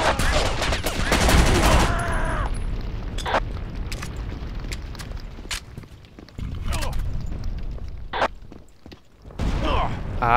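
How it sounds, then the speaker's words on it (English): Gunfire in the video game Battlefield Vietnam, a heavy burst of booming shots at the start followed by scattered distant rifle cracks and thuds amid steady rumbling battle ambience, no talking. "I can hear gunfire."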